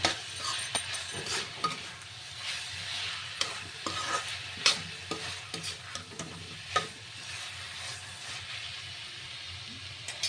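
Turmeric, chilli powder, ginger-garlic paste and salt get stirred through in a pan for an Andhra-style dish, giving a steady sizzle broken by scattered scrapes and clicks of the spoon, close and fairly quiet.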